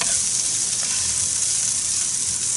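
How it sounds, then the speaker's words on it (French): Onions fry in a pan with a loud, steady, close hiss of sizzling oil that runs unbroken from start to finish, with no talk. "regarde, les oignons sont revenus un peu"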